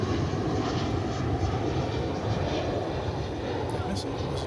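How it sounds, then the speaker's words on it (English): American Airlines flight 2722 arrives from Reno, Nevada at Dallas/Fort Worth Airport, its engines a fairly faint, distant steady roar that holds evenly for a few seconds. "Here comes American 2722, arriving from Reno"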